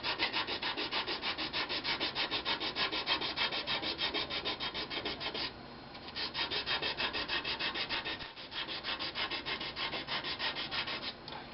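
A spalted oak vase spinning on a woodturning lathe is sanded with heavy-grit paper, giving a rapid, rhythmic rasping scrub that runs continuously with one short pause midway.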